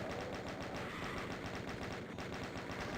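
Chaingunner fire in DOOM: a fast, even stream of rapid gunshots, fairly faint and continuous for the whole stretch, with no voice.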